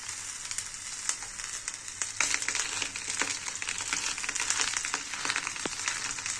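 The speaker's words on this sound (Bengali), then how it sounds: "তারপরে মাছগুলো দিয়ে দেবো।" Parshe fish fries in oil in a pan, a steady close sizzle with dense crackling pops that hold at an even level throughout.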